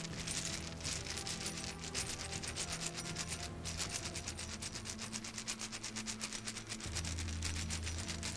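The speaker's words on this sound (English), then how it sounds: "Look, everybody, keys." Metal keys jingle and clink in a continuous, dense rattle of small metallic taps, close and fairly even, over a faint steady low hum with no talking.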